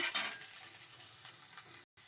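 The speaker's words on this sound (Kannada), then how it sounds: "ನೋಡಿ ಇವಾಗ ಈರುಳ್ಳಿ ಎಲ್ಲ ಫ್ರೈ ಆಗಿದೆ" Onions fry in a pan, a soft continuous sizzle with faint stirring scrapes, fairly quiet and close, cut off by a brief dropout near the end.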